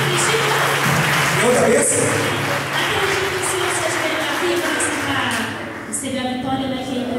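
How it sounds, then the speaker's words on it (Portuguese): Church congregation applauding in front of the altar, a sustained dense wash of clapping that fades slightly toward the end, with a voice speaking briefly over it. "Vamos aplaudir bem forte, tá feliz?"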